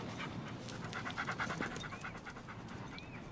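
A dog pants rapidly and rhythmically close by, quick breathy huffs over a background hum, with no speech.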